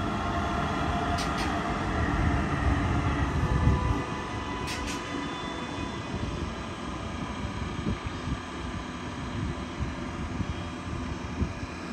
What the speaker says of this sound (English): Here comes a DB train headed to Dresden HBF.